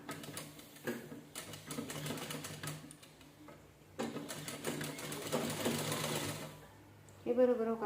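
A sewing machine stitches a blouse in short bursts of rapid, even needle clatter separated by pauses, with a brief faster run near the end and someone speaking softly in between.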